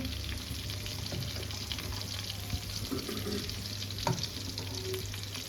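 Chicken roasting in a kadhai makes a steady, moderate sizzle and crackle with a low hum beneath and a few scraping stirs and clinks.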